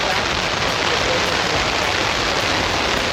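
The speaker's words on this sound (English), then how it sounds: "And the rain has graced us again." Steady, dense rain pouring down at an outdoor car show, a continuous hiss of drops hitting surfaces close by with no pauses.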